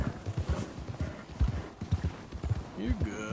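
Horse hooves clip-clop in a steady rhythm in Red Dead Redemption 2 while the horse bucks and is being calmed, close and fairly loud, with a person talking over them and a brief whinny near the end.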